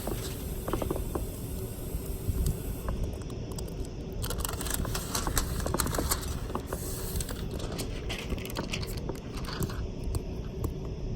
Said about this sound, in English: go ahead and peel your plastic up from your tape